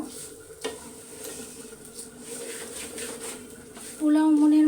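Polao rice sizzles and gets stirred in a pan as it is fried, a steady soft crackle with scraping strokes close by, ending in a louder tonal hum near the end.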